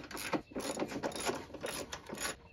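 Ratcheting and clicking of a socket wrench loosening 13 mm bolts that hold the fender tray to the inner fender well of a Chevrolet Trailblazer, in steady rapid bursts close by with no talk.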